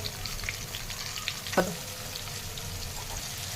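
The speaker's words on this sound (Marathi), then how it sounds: "मीठ आणि थोडंसं तेल टाकून मध्ये कढीपत्ता टाकून घेत आहे, तेजपत्ता, कांदा टाकून घेतलेला आहे, हिंग," A tempering of curry leaves, bay leaf, onion and hing fries in oil for dal khichdi, a soft steady sizzle with a single sharp stirring clink near the middle, close and without voices.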